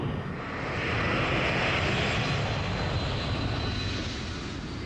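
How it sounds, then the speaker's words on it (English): A C-5 Galaxy military transport's turbofan engines spool to maximum takeoff thrust, a loud, steady, broadband roar that swells within the first second and holds constant, with no voices. "They'll keep the brakes on until each turbofan reaches its maximum thrust. And then, at peak power, the pilots let go."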